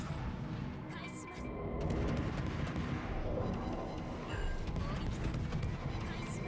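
Destroyer Kitakaze fires naval guns in World of Warships, heard as repeated crashing booms over steady engine and battle rumble, with someone talking throughout.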